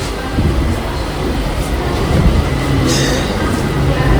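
Loud rumble of a train moving off, steady rolling noise close by with a faint high whine rising partway through.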